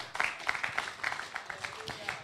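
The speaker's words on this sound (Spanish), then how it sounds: "Dele fuerte ese aplauso al Señor" A church congregation at a children and youth service claps in quick, uneven bursts, faint and somewhat distant, for just over two seconds.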